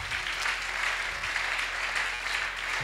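Church congregation applauding at a service in Bunia, a steady, dense wash of clapping that fills the whole moment without a break.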